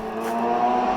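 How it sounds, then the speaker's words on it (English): A motorbike sweeps by with a loud, steady engine roar, close and brief, with no voices. "There goes a motorbike."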